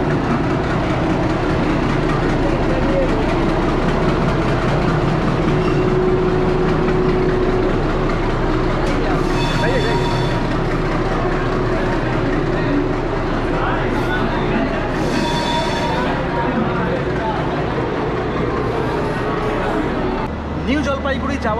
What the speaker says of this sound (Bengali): ধরলাম NJP যাওয়ার সেই পরিচিত ট্রেন।